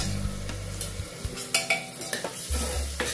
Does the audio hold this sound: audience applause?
no